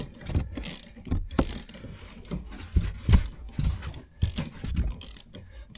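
A ratchet wrench tightens a 15 mm strut nut on a 2012-2015 Honda Civic while an Allen wrench holds the shock stud, giving up-close bursts of clicking in short, uneven strokes with brief pauses between them.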